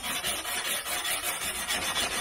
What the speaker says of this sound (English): I'm going to scuff them up with like a Scotch-Brite type pad.